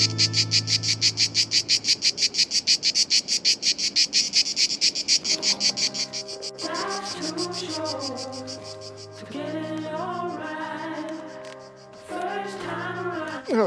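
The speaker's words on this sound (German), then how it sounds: "Ah, schön, Zikaden, wie in Südfrankreich." Cicadas buzz loudly in fast, steady pulses along an e-bike route toward Verona on the Via Claudia Augusta. Midway, tonal, music-like sounds take over.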